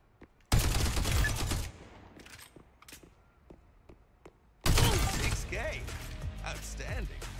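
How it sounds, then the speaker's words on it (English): Splinter grenade blasts and gunfire in the shooter game Spectre Divide, a sudden loud burst of explosive noise, quieter clicks and shots, then a second heavy blast with debris and ringing, with a voice talking over it. "Splinter grenade."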